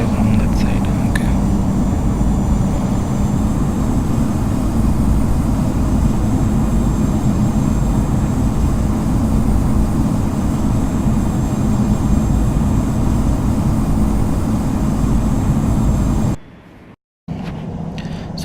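Airplane engines roar in a steady, loud drone while an aircraft taxis to the runway at JFK in the Infinite Flight simulator, ending with a brief dropout near the close.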